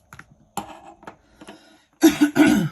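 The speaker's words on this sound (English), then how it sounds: "I'm sorry for coughing." A few soft dry coughs, then two louder, harsher coughs close by at the end.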